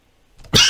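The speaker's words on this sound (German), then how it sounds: "Mein Husten ist sehr authentisch." One short, sharp cough bursts out close to the microphone after a near-silent lead-in.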